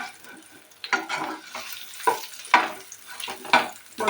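Potato pieces fry in hot oil in a pan while being stirred, soft sizzling with several clattering scrapes and bursts at irregular intervals.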